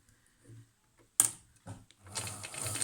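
A sewing machine back-stitches elastic onto a shaped fabric mask in a short close burst that starts abruptly, pauses briefly, then resumes steadily.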